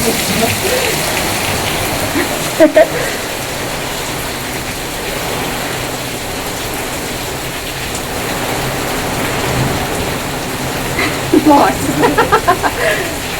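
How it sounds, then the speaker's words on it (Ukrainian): Heavy rain pours down in Kharkiv during a storm with hail warnings. It makes a loud, dense, continuous wash with a few sharp knocks and clicks near the start and end. "Заливає просто як з відра."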